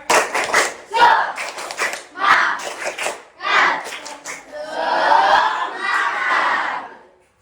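A standing class of students performs the tepuk semangat clapping chant in bursts of rhythmic claps and shouted chanting, loud and close, ending in a sustained group cheer.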